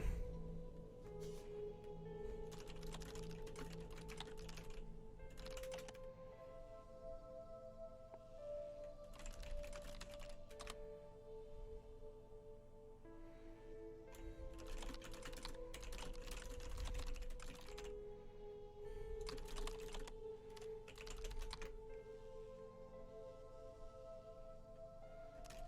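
Someone types on a computer keyboard while playing the game The Turing Test, with irregular bursts of quiet key clicks separated by pauses under a faint, humming musical background.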